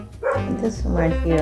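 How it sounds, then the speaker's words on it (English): A dog named Kia barks out in a backyard, several muffled woofs heard from inside a house, mixed in with a person talking close by. "You can hear her all over the house when she's barking out back"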